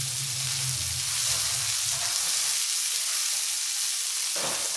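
Chips sizzling and frying in a hot pan as they are tossed over for a steak dinner, a steady loud crackle with a low rumble near the start and a brief scrape of movement toward the end; no talking.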